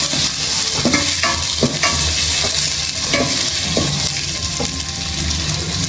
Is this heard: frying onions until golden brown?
yes